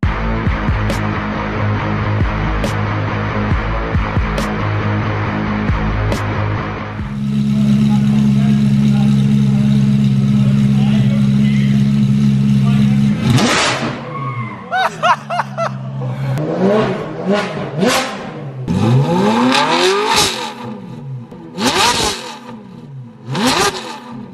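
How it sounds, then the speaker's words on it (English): A Ferrari F430 engine runs and idles close by, then settles into a steadier drone before a series of sharp, loud revs climb and fall repeatedly, with people's voices mixed in. "they have been dying to hear the F430 start. So I had to give them a startup and a few revs"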